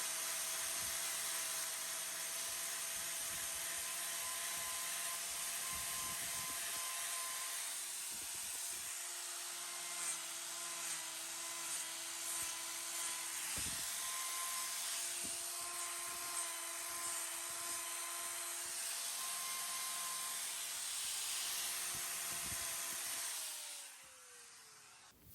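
A powered trimming tool working on a cow's hoof, a continuous high whine and hiss that holds steady for about twenty-five seconds with slight load changes before winding down at the end, alone with no talking.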